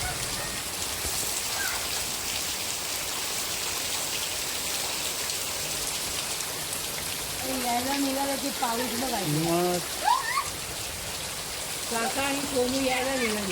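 Steady first rain of the season patters densely and evenly throughout. Later, voices talk and laugh over the downpour.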